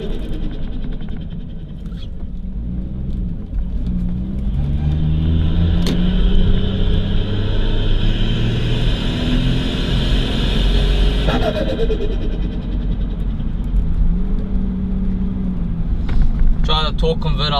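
Inside a Nissan Patrol with a turbocharged TB45 engine, the motor rumbles and builds steadily under acceleration in first gear, a low, swelling drone heard from the cabin as someone talks over it.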